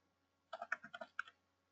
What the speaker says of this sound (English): I'll be able to type in that case ID number